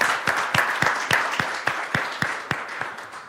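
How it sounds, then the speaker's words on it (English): Audience applause that is thin and spaced out, about a dozen distinct, fairly sharp claps in a steady rhythm, close by, fading slightly toward the end. "let's have another warm applause to Giovanni"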